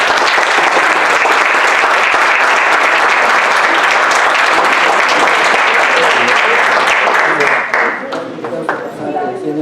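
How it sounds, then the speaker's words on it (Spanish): Sustained audience applause after a doctor's lecture on kidney disease diagnosis, dense and loud clapping for about eight seconds before thinning out near the end. "pido un aplauso"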